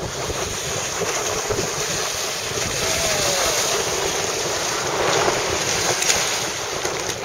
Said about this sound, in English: Excellent capsize.